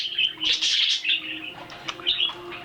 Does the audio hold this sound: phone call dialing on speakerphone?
no